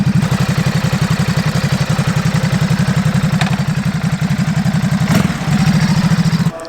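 A Ducati motorcycle engine idles before a test ride with a steady, close, rhythmic thumping pulse that runs evenly throughout and drops away abruptly at the very end.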